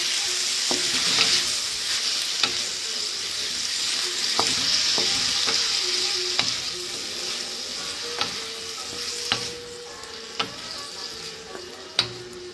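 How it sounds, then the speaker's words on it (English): Stir-frying over high heat in a home kitchen, a strong steady sizzle with regular sharp utensil taps and scrapes against the pan every second or so, close and clear without speech. "when you stir fry, you're really supposed to stir fry on"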